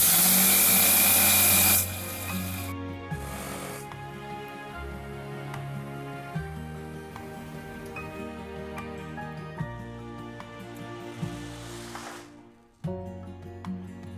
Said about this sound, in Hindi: ऐसे सूखे पोहे को ही ग्राइंडर में डालकर पीस लेंगे।